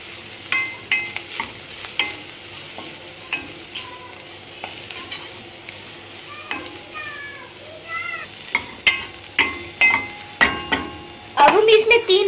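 Spices being stirred in a pan for pinwheel samosa filling (cumin, salt, paprika), with a steady sizzle under repeated scraping and clinking strokes of a spoon against the pan, close and clear.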